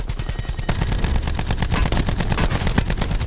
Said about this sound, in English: Shot right in front of me.